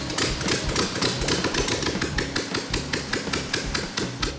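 A 1970s VW van engine runs close up after a rebuild, a loud, steady, rapid clattering idle with a regular mechanical rhythm and no voices.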